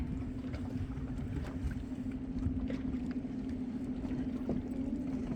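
An outboard motor drives a boat on open water through a reef pass, its steady droning hum running continuously throughout with splashing water and wind noise mixed in.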